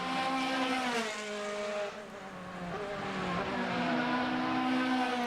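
Formula BOSS race cars lapping the Mondello circuit, their engines droning steadily with harmonic pitch sweeps as cars pass and change gear, sustained and fairly loud throughout with no voices.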